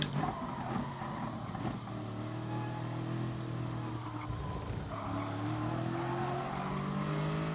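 Race cars in Gran Turismo Sport, a Nations Cup race, roar continuously as engine tones climb and shift through gear changes, with tire squeal and other cars close by and no voices.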